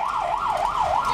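An ambulance siren wails in a steady, rapid up-and-down cycle, loud and close, on a night emergency call answering a police referral for a collapsed woman.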